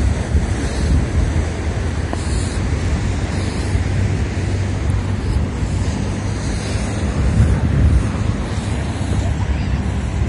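Sea surf rolls steadily onto Konyaaltı beach in Antalya, near where a stream meets the sea, a continuous roar buffeted by wind noise on the microphone.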